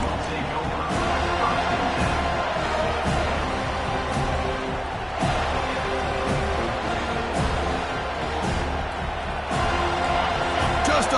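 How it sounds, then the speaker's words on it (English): Home crowd cheering in the college football video game NCAA 25, a loud, sustained roar with periodic surges and sharp bursts. "this home crowd is fired up and ready to make a difference today"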